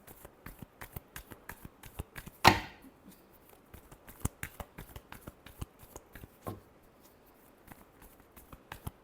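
Playing cards riffled and shuffled by hand in a quiet room, a rapid papery flutter of dense clicks with one sharp louder snap early on, close and alone with no talking.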